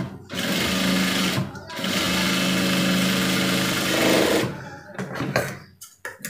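A sewing machine runs steadily while stitching a cross pocket on cloth, a loud continuous motor whir in two long runs broken by a short pause, then stopping into scattered handling clicks.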